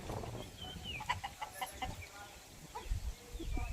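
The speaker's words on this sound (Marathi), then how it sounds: "ही कोंबडी आहे." Several short hen clucks from a farmyard flock, scattered and fairly faint through low outdoor noise, with bird calls in the background.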